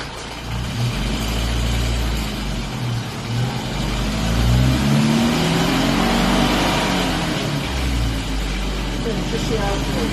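A car engine runs on the road during remap tuning, with a continuous droning hum whose pitch sweeps upward partway through as it accelerates, then settles back.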